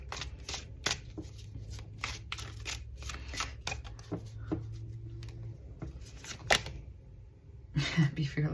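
Tarot or oracle cards being shuffled in a run of crisp riffling bursts and taps, close by, with a soft low hum underneath and a brief pause near the end.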